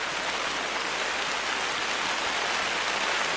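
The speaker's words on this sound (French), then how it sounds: "Il y a un bruit, la pluie, la pluie." Steady, even rain falls in the hunting video game theHunter, a dense, continuous hiss with no breaks and no voices.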